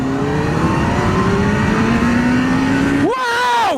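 A Kawasaki GTR1400 motorcycle pulls hard in second gear, its engine note climbing steadily, then a quick shift break and a fresh rising surge, close and loud over wind noise.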